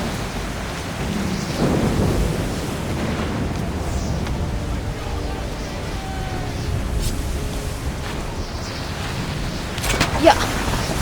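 Thunder rumbles through a rainy storm in the game Assassin's Creed 3 Remastered as lightning strikes. A steady wash of rain runs underneath with a sharper crack near the end.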